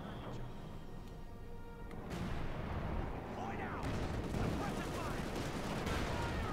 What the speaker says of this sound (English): More Bazooka fire there, going to move forward.